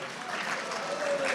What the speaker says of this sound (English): Rabbi Birnbaum is clapping